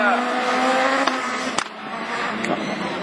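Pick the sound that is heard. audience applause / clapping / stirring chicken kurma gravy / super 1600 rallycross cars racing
super 1600 rallycross cars racing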